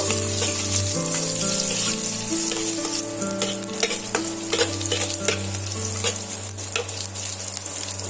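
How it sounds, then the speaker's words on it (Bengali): Onions fry in hot oil in a pan for moong dal tempering, a steady close sizzle broken by repeated scraping stirs while a constant hum runs underneath. "পেঁয়াজ দিয়ে আবারও সুন্দর করে একটু লাল লাল করে ভাজা করে নেব"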